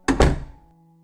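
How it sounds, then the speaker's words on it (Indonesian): A bedroom door slams shut with a hard double thud, one close heavy impact right after another, then a short fading rumble. "Cinderella menutup pintu kamarnya dengan keras"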